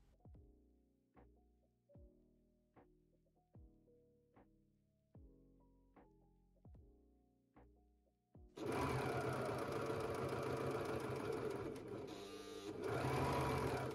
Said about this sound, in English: Sew the sleeves and sides.